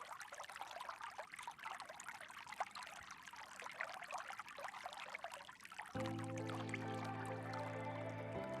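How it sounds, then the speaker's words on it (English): The Guyanus River, a small creek near Las Vegas, runs with a steady, soft rushing and trickling flow, faint and continuous, before a low sustained hum joins in near the end. "the Guyanus River, it's really just a creek"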